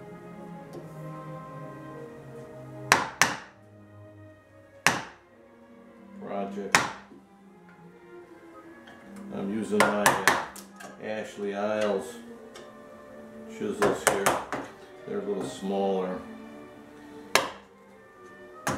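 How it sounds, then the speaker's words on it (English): A chisel chopping out dovetails for a wooden drawer on a 19th-century-style clerk's desk, heard as scattered sharp mallet strikes and wood chops, with someone talking between and over the blows. "Chopping out the dovetails now for the one and only drawer in this."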